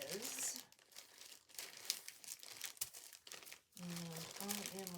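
A glycine bag crinkles and rustles as it is handled, in close, uneven bursts with a quiet voice speaking in between.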